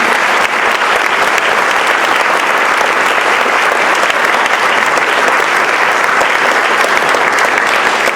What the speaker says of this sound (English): 1 more round of applause for all of our winners